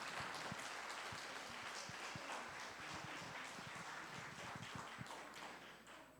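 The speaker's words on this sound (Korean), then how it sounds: "큰 박수 부탁드리겠습니다" Audience applause at a church ministry presentation, a fairly quiet, continuous patter of many hands clapping with a few louder individual claps standing out, fading slightly at the end.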